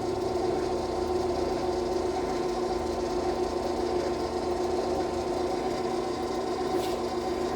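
A manual-feed metal lathe faces off a 6.5x47 Lapua rifle barrel tenon, making a steady droning whir with a continuous scraping cut. The level stays constant and close throughout, with no talk.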